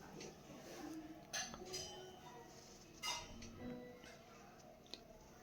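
Chopped tomatoes tipped into a hot pan while making mint chutney give a few faint, soft clinks and thumps in an otherwise quiet kitchen.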